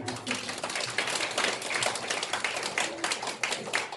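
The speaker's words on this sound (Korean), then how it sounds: "박수 한번 하세요" Audience clapping at a volunteer event in a nursing home, a dense, steady patter of many hands that fills the whole stretch at moderate loudness.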